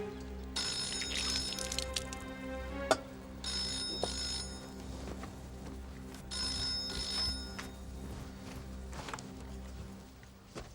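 A telephone bell rings in repeated bursts, steady and fairly loud indoors, with a low hum beneath it.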